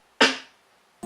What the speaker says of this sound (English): So for the snare, nothing too difficult.